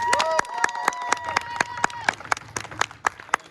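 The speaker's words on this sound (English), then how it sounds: "another round of applause for our Rangers" Scattered claps ring out from a convention panel audience celebrating the Power Rangers, sharp individual hits spaced irregularly over a faint tonal background, fading toward a sparse few claps.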